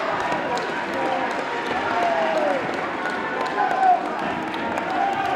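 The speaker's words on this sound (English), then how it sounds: "we got cheering coming from to our right here from the bench, Cherry West" Fans and the bench cheer at a Cherry Hill West versus TRN boys high school basketball game in a gym, a continuous murmur of crowd noise and scattered claps with a ball bouncing faintly, under a voice.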